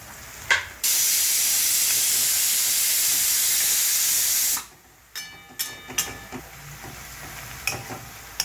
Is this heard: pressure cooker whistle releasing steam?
yes